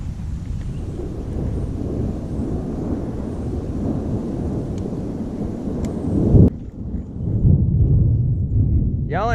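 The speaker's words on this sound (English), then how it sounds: "I ain't scared of thunder." Thunder rolls overhead during a thunderstorm on a bass fishing outing, a long loud low rumble that builds to a sharp crack near the end, with wind noise on the microphone.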